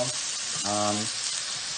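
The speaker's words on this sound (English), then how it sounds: "And I will stir these noodles." Noodles sizzle steadily in a hot pan while being stirred, with a short low tonal hum rising briefly in the middle.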